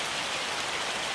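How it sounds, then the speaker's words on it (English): Rain and hail in the Farming Simulator 25 video game make a brief, even, dense hiss of falling drops, steady and moderately soft, with no voices. "I guess we're going to wait this hailstorm out"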